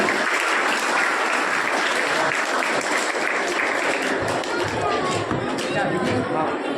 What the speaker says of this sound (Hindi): तालियां एक बार जोरदार इनके लिए।